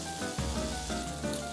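Dried beef hitting hot olive oil with onion and garlic, a steady close sizzle that thickens after a sudden burst, with no talking.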